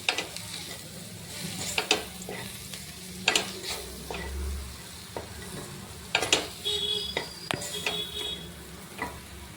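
Potato being mashed and stirred in a cooking pan, with scraping spatula strokes and soft sizzling at irregular intervals and a brief low thump, close by, with no talking.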